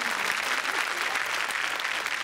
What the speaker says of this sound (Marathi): आनंदा कारेकर यांच्यासाठी जोरदार टाळ्या झाल्या पाहिजेत